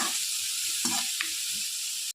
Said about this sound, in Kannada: ನಾನು ಅದಕ್ಕೆ ಬಟರ್, ಆನಿಯನ್, ಕರಿಬೇವು, ಹಸಿಮೆಣಸು ಹಾಕಿದ್ದೇನೆ. ಸ್ವಲ್ಪ ಫ್ರೈ ಮಾಡುವ.